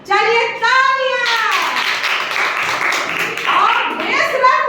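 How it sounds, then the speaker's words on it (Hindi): Schoolgirls at a middle-school quiz clap for the winning team, a crowd of hands clapping fairly steadily after a voice, with talk returning near the end. "चलिए तालियां।"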